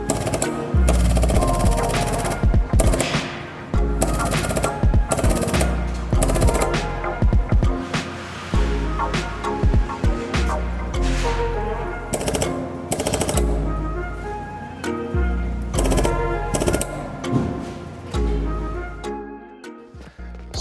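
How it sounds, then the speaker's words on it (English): A slide hammer works the lip of a damaged metal gate, striking loudly in rapid, repeated metallic impacts that run almost continuously with brief pauses. "now I'm just using a slide hammer to work the rest of the lip of the gate"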